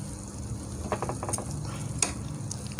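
Air fryer timer dial turning to ten minutes, a quick run of close ratcheting clicks with a fan hum underneath and no one talking.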